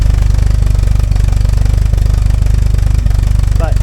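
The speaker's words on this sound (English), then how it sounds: "We'll do a few cold starts on it and see if we can make sure that it runs well." A 1976 Alfa Romeo Spider engine idles steadily after a cold start, with a loud, continuous low rumble and an uneven pulse that suggests a possible misfire or an off mixture.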